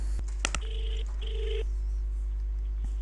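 Several touch-tone telephone keys are dialed in a short burst, the paired tones sounding faint and close over a steady low hum, with a few clicks around them and then quiet line noise.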